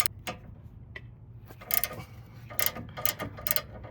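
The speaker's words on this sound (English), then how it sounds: "So you back off the nut" Wrench ratcheting on a sway bar link nut of a second-generation Nissan Rogue, heard as a few sharp close clicks and short metallic bursts, some in quick clusters, over a low background hum.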